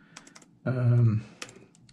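Keys on a computer keyboard click in sparse, light taps, interrupted by a brief louder tonal sound, with some faint talk in the background.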